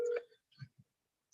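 Touch-tone telephone dialing while placing a call: a short burst of DTMF beeps followed by a couple of soft low thumps, close and fairly quiet, then silence.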